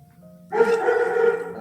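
A dog barks or howls nearby in one sustained, tonal outburst that starts abruptly after a quiet moment and carries on to the end.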